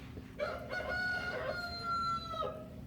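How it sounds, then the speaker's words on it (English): A single rooster crow rings out clearly during a church Easter play in Piedmont Park, a drawn-out cock-a-doodle-doo over a low steady background hum. "Before the rooster crows?"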